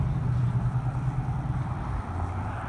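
A car's engine runs steadily nearby with a low, rough drone that seems to need a tune-up, continuing alone with no talk throughout.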